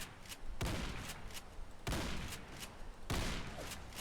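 Police Magnum pump shotgun, a Remington 870 weapon mod in Fallout 4, fires three heavy booming blasts at a giant Roachzilla, spaced more than a second apart, each trailing off into a short rumble.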